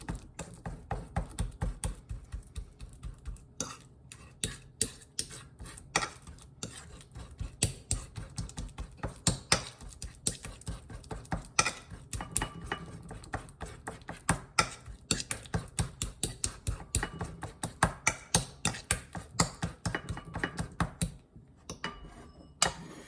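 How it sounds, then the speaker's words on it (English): Half a banana mashed in a bowl with a fork, giving a steady run of soft, close squishy taps and scrapes at a quick, uneven rhythm, with no talking. "So I mash up half of a banana."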